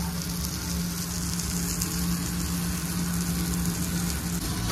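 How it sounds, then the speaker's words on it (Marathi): Pomfret fish frying in a pan in a hotel kitchen in Panvel, a steady dense sizzle holding at even loudness throughout, with no talk over it. "पॉपलेट फ्राय करायला घेतलाय"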